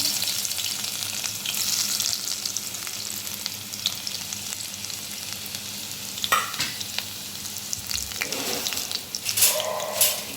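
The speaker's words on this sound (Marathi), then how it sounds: "चला आता आपण त्याच्यामध्ये हा लसूण घालूया." Garlic sizzles steadily in hot oil with turmeric, cumin, garam masala and salt for a field bean and mango curry, with a few sharper clatters of stirring near the end.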